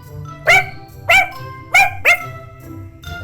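Puppies bark in short, bright yaps, four clear barks in an uneven rhythm close by with a faint fifth at the end, over a low background hum and no talking.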